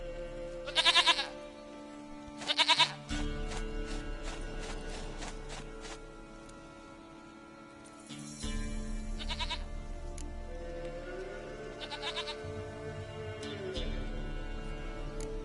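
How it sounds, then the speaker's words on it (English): A goat in The Witcher 3: Wild Hunt gives two short, sharp bleats close by, followed by quieter in-game ambience and a few soft mechanical sounds. "Goat of mine, dearest,"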